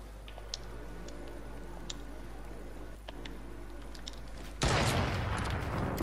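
Fortnite battle royale gunfire pops faintly as scattered, sharp shots over a steady hum, followed by a sudden loud burst of broadband noise near the end.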